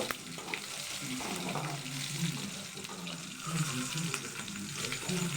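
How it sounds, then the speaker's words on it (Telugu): Spiced ingredients with plenty of chilli powder fry in a pan, giving a steady, even sizzle with a few soft scrapes and knocks, moderately loud and continuous, with no one talking. "వేగిన తర్వాత చూడండి బాగా వేగుతున్నాయి"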